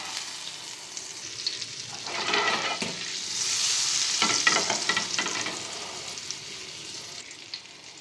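Butter sizzling in about a tablespoon and a half of hot oil in a pan for street-style pav bhaji, a steady hiss that swells louder midway then settles, with no talk.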